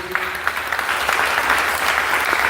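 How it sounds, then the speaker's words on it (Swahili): A church congregation at a Sunday service claps for Jesus, a dense, steady burst of applause that fills the whole moment at close range. "Nataka upigie Yesu makofi mazuri."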